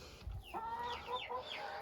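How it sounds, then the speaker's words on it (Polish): A hen clucks up close on a farm, giving a few short rising clucks and squawks over quiet background. "Ta kura jest po prostu cudowna"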